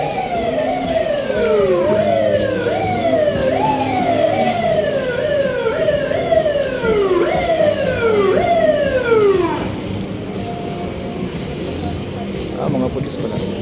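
Police car siren wailing in a busy street in Quiapo, Manila, a loud rising-and-falling yelp repeating for about ten seconds before cutting off, with traffic and crowd noise underneath.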